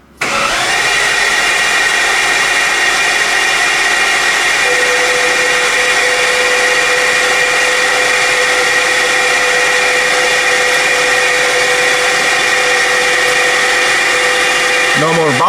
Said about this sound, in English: Please crank the engine